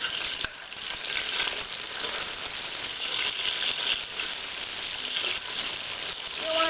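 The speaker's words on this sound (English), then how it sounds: "You only need about 3 tortillas. So just let those fry." About three tortillas fry in a pan on a stove at medium-high heat, with a dense, continuous sizzle and crackle of hot oil that holds steady throughout.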